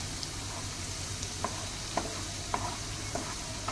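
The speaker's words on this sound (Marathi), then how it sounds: "5 मिनिटं तरी असं व्यवस्थित ढवळत राहायचं" Schezwan chutney cooking in a frying pan, a low steady sizzle with a spoon scraping and tapping the pan roughly every half second.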